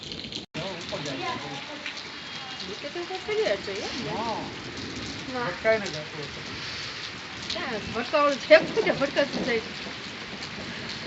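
Heavy rain pours steadily at Dalhousie, a continuous broadband hiss of falling water running beneath a nearby conversation throughout.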